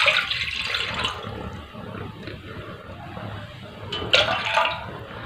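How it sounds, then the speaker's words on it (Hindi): About two and a half cups of water pour into a cooking pot for green kahwa tea, making a continuous hissing splash that eases off midway, then swells into a brighter gush near the end. "अढ़ाई कप हमने पानी डाला है"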